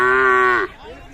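Khillar cattle at a cattle market, one loud close moo held for a little over half a second and then cut off, followed by quieter market background.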